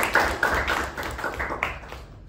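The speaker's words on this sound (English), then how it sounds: "A big round of applause for them." Brief, scattered clapping from a small audience at a Toastmasters-style club meeting, a few uneven hand claps and taps that thin out within a couple of seconds.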